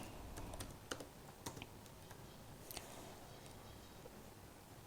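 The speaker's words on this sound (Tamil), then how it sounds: "இப்போது இங்கே கீழே வந்து நான் வெல்கம்னு டைப் பண்ணுறேன்னு வச்சுக்கோங்க." Typing on a computer keyboard while entering a word in an Excel spreadsheet, a handful of quiet, sharp key clicks spaced irregularly over a faint background hiss.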